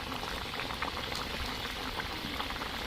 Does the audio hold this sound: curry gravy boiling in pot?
yes